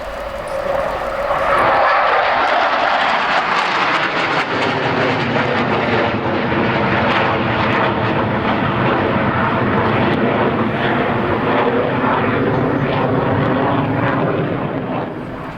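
A pair of French Navy Rafale jets with tailhooks lowered pass at the Yeovilton air day, a loud sustained jet roar whose pitch sweeps downward as they fly by and then holds as a broad rumbling wash.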